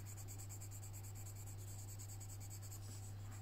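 A pencil shading the body of a realistic kangaroo drawing, a faint, steady scratching close by under a strong low hum, with no talk.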